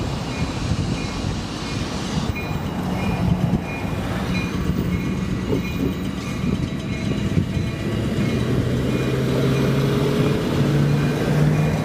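A train rumbles steadily past a level crossing at close range, wheels clattering over the rails with a low mechanical roar and occasional squeals, continuous throughout.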